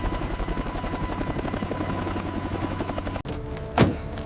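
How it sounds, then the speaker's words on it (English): Military helicopters' rotors thump steadily nearby as they land at a forward operating base at first light, then the sound cuts abruptly and a sharp rising whoosh follows. "The helicopters finally settle back at the forward operating base just as the first light breaks."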